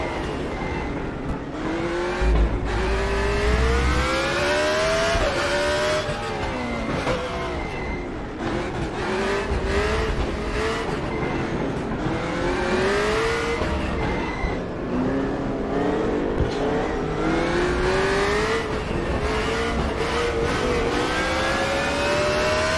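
A race car engine screams continuously in RaceRoom Racing Experience, revving up and down through repeated gear shifts as it accelerates and brakes, loud and close throughout with no voice over it.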